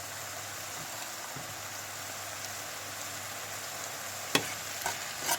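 Mushrooms cook in a pan as their liquid reduces, giving a quiet, steady sizzle and bubbling, broken near the end by a few sharp scrapes and knocks of a utensil against the pan.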